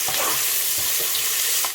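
Onions and salt frying in a pot, a dense hiss with scattered crackles and a few stirring scrapes, close up, cutting off abruptly at the end.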